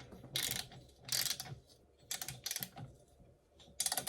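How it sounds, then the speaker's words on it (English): A ratchet snugs up bolts in a crisscross pattern during a Polaris 488 fan rebuild, with bursts of rapid close clicking separated by short pauses, sounding quiet and alone. "I'm just gonna snug them up in a crisscross pattern first."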